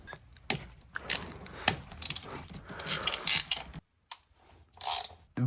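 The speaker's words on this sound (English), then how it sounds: "now it's time to take out the bolts and get the head off" Ratchet clicking as valve cover bolts come out of a BMW E36 engine, quick bursts of metallic ratcheting with short pauses and a silent gap near the end, close and fairly loud.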